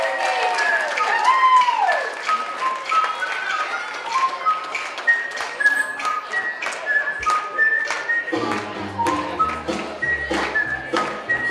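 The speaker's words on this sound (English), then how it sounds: "Keep those hands clapping." Party guests at a bar or bat mitzvah celebration clap steadily during a candle-lighting ceremony, a sustained crowd applause with whistles and cheers, and a low beat from background music joining near the end.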